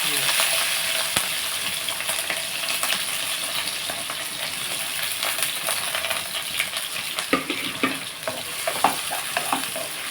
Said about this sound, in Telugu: ఇప్పుడు మనం ఇందులోకి పచ్చిమిర్చి వేసేసుకుందాం ఉల్లిపాయలు కూడా వేస్తాం